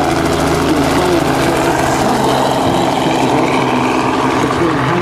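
A Robinson R44 helicopter flies at a demonstration, its engine and rotor giving a loud, steady, close drone with a low throbbing hum that lasts throughout.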